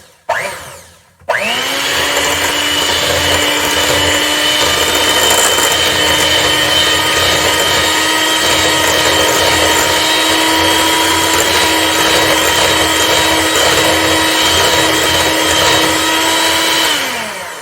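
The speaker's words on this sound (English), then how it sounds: "Now I'm going to whisk everything nicely." Muffin batter with light vegetable oil, for banana granola breakfast muffins, is beaten with a loud electric whisk that starts after a brief bump and runs steadily and continuously at high speed until winding down at the end.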